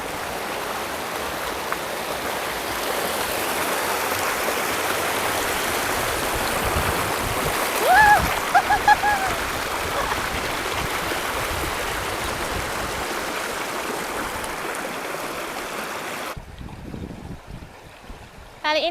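River water rushing and splashing at Plunyon on the Kali Kuning below Mount Merapi, a loud steady broadband wash that fills the scene with a few brief splashes midway, then drops abruptly near the end.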